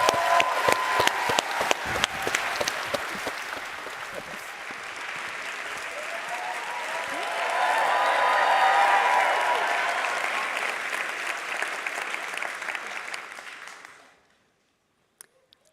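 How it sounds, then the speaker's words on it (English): A TEDx conference audience in London applauds, sharp individual claps building into a full, sustained ovation that swells midway and then fades out to silence near the end. "we're going to give Jules a big round of applause"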